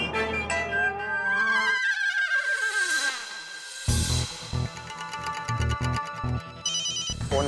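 A phone ringtone plays with a melodic, bright electronic tune, first a rising chirpy phrase, then a rhythmic repeating ring pattern, loud and close with no voices.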